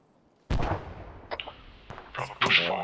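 Anti-aircraft gun fire in the Arma 3 war game, heavy booming shots with rumbling decay, followed by further sharp bursts and crackling impacts toward the end.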